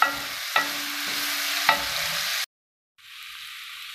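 Onion and garlic fry in a pan for a fennel and olive tajine. A steady sizzle runs with a few sharp stirring knocks, then cuts off abruptly and returns as a thinner, quieter hiss.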